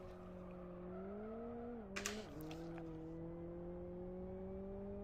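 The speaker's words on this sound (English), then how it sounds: "the ID3, the low speed noise is just amazing" A VW ID3 electric car in the racing game Live For Speed emits its low-speed pedestrian warning hum, a steady tonal drone that dips briefly and continues, with a short burst of clatter midway.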